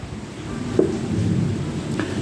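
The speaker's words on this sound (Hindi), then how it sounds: "बिल्कुल बारिश हो रही है बाहर में, बहुत खतरनाक वाली बारिश।" Heavy rain falls outside with a low rumble of thunder, a steady, muffled wash of sound heard from indoors.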